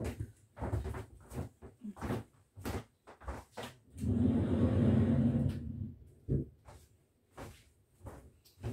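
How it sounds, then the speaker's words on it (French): A door is shut indoors amid a string of knocks, clunks and handling thumps, with a longer rumbling slide in the middle. The sounds are moderately loud and close. "je vais fermer la porte."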